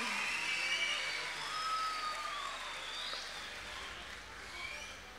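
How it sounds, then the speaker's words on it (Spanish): A crowd at a festival claps steadily at a moderate distance, the applause holding evenly for a few seconds with faint chatter mixed in. "Y los aplausos."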